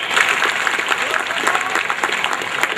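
A school golden jubilee audience claps in a dense, steady burst of applause that fills the room from start to end, with crowd voices murmuring underneath.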